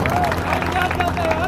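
An audience claps for a speaker at a 2024 election gathering in Pratapgarh, a dense patter of applause with a voice heard over it.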